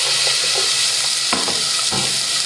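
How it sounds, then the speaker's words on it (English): Onions sautéing in hot olive oil in a pan, with a steady broad sizzle throughout and a couple of louder stirring clatters partway through, fairly close and without any talking. "Let those saute a little bit."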